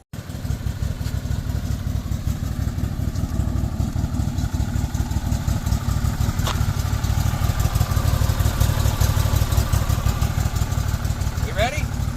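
A Can-Am Maverick 1000 side-by-side off-road engine runs steadily for a burnout attempt, a loud, continuous throbbing rumble with slight rises in revs, close to the microphone, with brief voices near the end.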